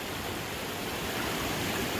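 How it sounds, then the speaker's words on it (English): Freshwater spring water wells up from the ground and runs as a small stream in Alabama woodland, giving a steady, even rushing wash close by. "See this freshwater stream or spring?"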